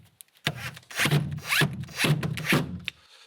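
A window sill support bracket being fixed onto wall plugs in a concrete wall, heard as a handful of rough, rasping bursts of about half a second each, close and fairly loud, with short pauses between them.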